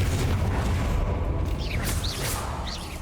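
Spell explosions from the Hogwarts Legacy video game, a continuous dense rumble with booming impacts and whooshing magical sweeps, loud and sustained without voices.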